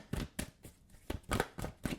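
A deck of cards is shuffled close by at a table, giving quiet, repeated riffling bursts in an uneven rhythm with brief gaps between them.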